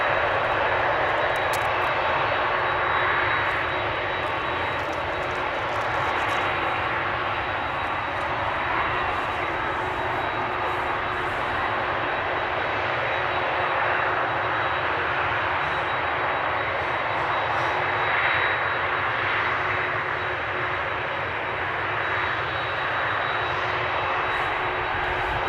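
Aircraft engines at Amsterdam Schiphol Airport roar in a continuous broad rumble with a steady high whine, loud and unbroken for the whole stretch, no voices heard.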